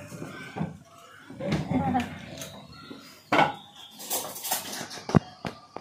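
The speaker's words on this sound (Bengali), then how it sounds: "এটাকে ডাল লাকড়ি দিয়ে একটু ঘেঁটে নেবো।" Lentils are stirred in a cooking pot with a wooden stick, producing scattered scrapes, knocks and clinks against the pot, some sharp, heard while a person talks nearby.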